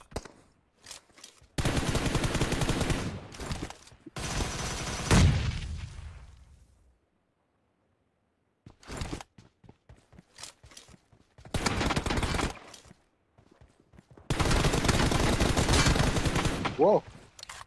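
Rapid bursts of automatic gunfire from a video game fight come in several loud, sustained volleys separated by short gaps of quiet and scattered single shots.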